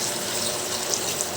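Water pours steadily into a cooking pot for beef sinigang, a continuous broadband rush with no break, close by and fairly loud.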